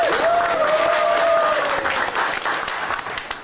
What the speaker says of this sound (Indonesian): Luar biasa, tepuk tangan buat Anda.